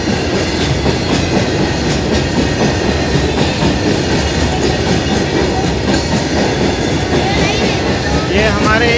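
A freight train passes on a broad gauge line at Kotlakhedi on the Sanawad–Khandwa route at about 30 km/h, giving a loud, close, steady rumble of wheels with rhythmic clickety-clack and a brief squeal near the end.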